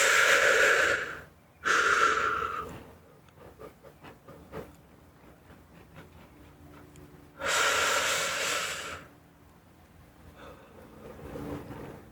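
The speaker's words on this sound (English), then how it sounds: "take some deep breaths" Slow, deep breaths in a quiet ASMR relaxation setting: two loud, close breathy exhales, then a long near-silent pause and another strong breath, followed by fainter breathing.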